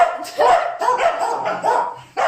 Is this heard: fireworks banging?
no